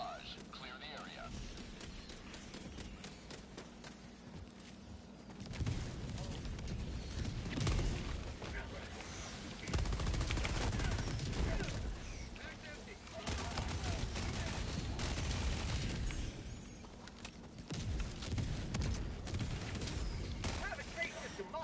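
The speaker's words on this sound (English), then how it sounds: "Firing orbital barrage. Clear the area." Orbital barrage bombardment in the Helldivers video game, with repeated booming impacts and rumbling blasts rolling on over about twenty seconds, moderately distant and at times dense, with no speech over them.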